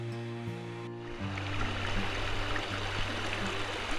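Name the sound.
freshwater waterfall flowing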